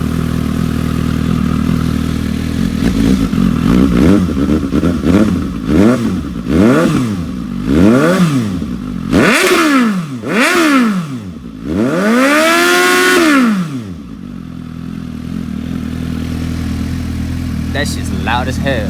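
Suzuki GSX-S750 motorcycle fitted with an Akrapovic GP exhaust, revved repeatedly in loud, rising-and-falling bursts that climb higher toward one long peak before settling back to a steady idle.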